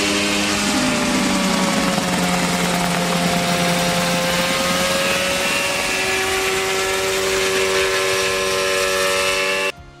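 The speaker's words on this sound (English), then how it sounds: "We take a look at an ultra-light coaxial helicopter soaring up in the sky." An ultra-light coaxial helicopter flies overhead with a loud, steady engine and rotor drone, its tones shifting slowly as it passes, then the sound cuts off abruptly near the end.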